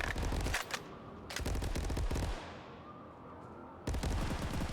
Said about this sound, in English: taking those pop shots with that AK